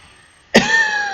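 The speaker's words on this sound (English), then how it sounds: "if I'm coughing during this video" A single sharp cough from a person with allergies, close and loud, with faint room noise before it and a lingering hum afterward.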